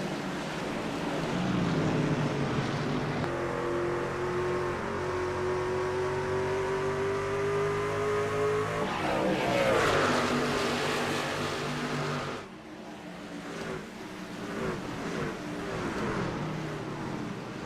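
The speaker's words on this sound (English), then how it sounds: "Love to hear the rumble of those trucks as they thunder down into turn number 2 off that dog leg" Electric race trucks of the DSR series thunder into turn 2 at Phoenix Raceway, a loud sustained rumbling whine that rises in pitch as they pass close, then drops off as the next pack approaches.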